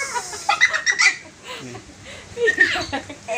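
Rooster and chickens feeding at a home yard, clucking in short bursts near the listener, with someone talking over them.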